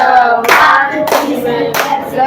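Children clap the Tepuk Semar routine in a classroom, with three loud, close bursts of clapping in a quick, patterned rhythm.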